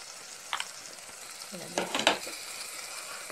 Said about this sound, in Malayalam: ബീഫ് ഇവ ചേർത്ത് നന്നായി വഴറ്റി കൊടുക്കാം